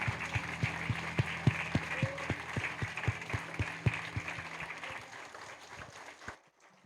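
Applause from a church congregation during a worship service, crisp claps over a low hum and a steady beat, fading out after several seconds and leaving near silence.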